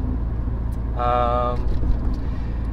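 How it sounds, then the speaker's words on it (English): A 1998 Honda Civic LX with a 4-speed automatic transmission drives along small streets with a constant low road rumble; a brief tonal whine rises midway, and a voice speaks over the engine noise. "I'm just gonna take the car up and down these little streets"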